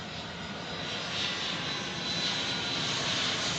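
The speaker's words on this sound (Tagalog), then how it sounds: "Anong aeroplano naman to?" A Philippine Airlines airplane lands at night at NAIA, its engines giving a steady, loud broadband roar that swells slightly midway and holds throughout, with no voices over it.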